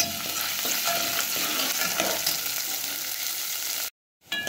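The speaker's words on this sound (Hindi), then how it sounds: "इसमें ये हम प्याज को डाल देंगे और बहुत हल्का सा इसको पिंक करेंगे" Onions fry in desi ghee in a pan, a loud close steady sizzle with stirring scrapes, running continuously before briefly cutting out near the end.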